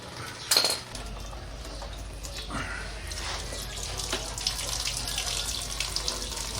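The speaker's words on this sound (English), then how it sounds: "Drain the radiator." Coolant drains from the radiator of a 2018 Honda CB500X motorcycle into a container, a steady close trickling and splashing stream with a few metallic clinks at the start.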